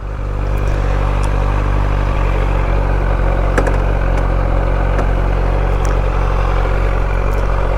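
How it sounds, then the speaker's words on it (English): A Kawasaki Z900 inline four-cylinder motorcycle with an aftermarket exhaust idles loud and close, a steady deep rumble with a faint mechanical clatter running unbroken throughout. "This is a 4-cylinder, inline 4-cylinder. It's got an aftermarket exhaust running into one, so it's pretty loud."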